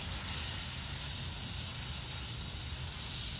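A garden hose nozzle on its shower setting sprays water onto garden plants in a steady, even hiss that runs unbroken throughout, fairly close.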